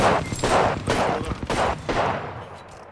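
Gunfire from Apex Legends, a series of rapid bursts of shots in quick succession, loud and close, with a brief lull before a final volley.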